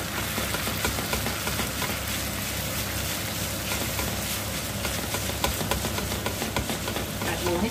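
300 grams of pork stir-frying in a hot pan for Thai basil pork, a continuous busy sizzle with scraping and stirring clatter at moderate volume throughout.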